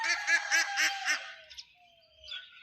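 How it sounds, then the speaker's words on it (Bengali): Large Chinese ducks give a quick run of about five loud, nasal honking calls close by, then go quieter, with a few fainter calls and soft rustling after. "এগুলো হচ্ছে বড় চীনা হাঁস"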